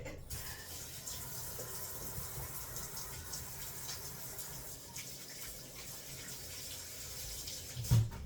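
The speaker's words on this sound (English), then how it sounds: "Let me wash my hands again." Tap water runs steadily into a kitchen sink as hands are washed beneath it, a continuous close splashing hiss with faint rubbing, ending in a soft knock.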